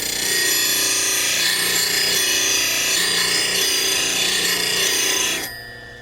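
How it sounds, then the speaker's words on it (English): A skew chisel being sharpened freehand at about a 30 degree bevel against a Robo Rest platform rest: a loud, steady grinding hiss over a motor hum, continuing for several seconds and then cutting off sharply near the end. "a skew chisel, not a tool I use very often, but I still can sharpen them"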